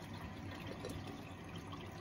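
A washing machine on a normal wash, without the extra-water option, fills with water in a steady, quiet rushing hiss close by, with no talk.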